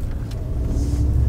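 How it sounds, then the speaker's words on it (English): A car passes on a road at night, a close, loud engine rumble that swells steadily as it goes by, with no talk over it. "Isn't that the car that just passed us?"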